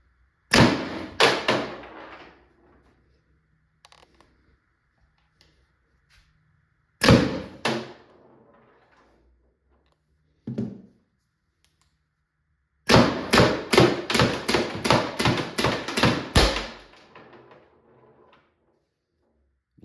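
A Tippmann TiPX paintball pistol firing on a nearly dead 12 gram CO2 cartridge: sharp close pops, first a few spaced single shots, then a rapid string of about a dozen shots, with silent gaps between bursts.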